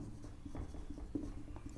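Pen writing out a maths solution on paper, a soft continuous scratching with brief stroke taps, close and quiet, with no voices.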